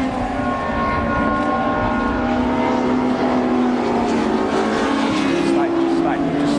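High-pitched race car engines whine at speed around Brands Hatch, a sustained roaring drone with shifting pitch as the cars run past.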